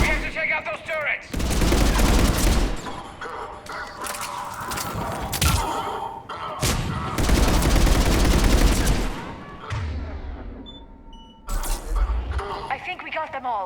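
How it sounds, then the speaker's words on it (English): Sustained bursts of gunfire aimed at enemy turrets in the video game Mass Effect 3, loud rapid volleys in several long stretches separated by brief pauses, with game voices and effects mixed in. "We have to take out those turrets!"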